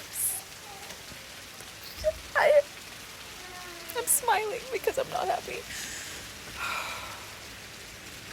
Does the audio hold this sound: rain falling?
yes